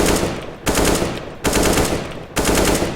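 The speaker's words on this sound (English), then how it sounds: "you might want to burst him, which is just shooting like 3 to 5 bullets" Automatic rifle fire in CS:GO, with four dense bursts of rapid shots in a regular rhythm, loud and close with no talk over them.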